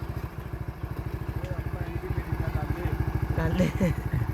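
A motorcycle engine runs in a village, thumping with a fast, even pulse that stays steady and close throughout, while a voice is heard briefly over it near the end.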